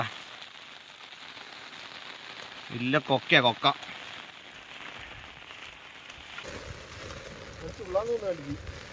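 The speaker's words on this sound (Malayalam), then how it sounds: "മഴ വാരി തുടങ്ങി" Steady rain hisses evenly throughout on a misty hill trek route to Kudajadri, while people talk nearby in short bursts over it.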